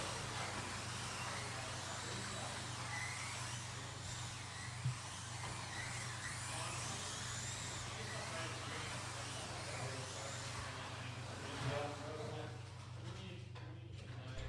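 V8 ute race cars circle the Bull Ring oval on the final lap of a heat, a continuous engine drone rising and falling from a distance with a crowd-like wash over it.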